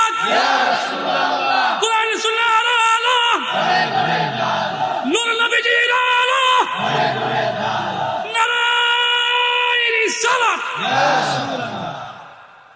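A crowd at a Bangla Islamic sermon shouts the takbir, Allahu Akbar, in loud, sustained chanted bursts that alternate with a leading voice in a call-and-response rhythm, close and forceful throughout.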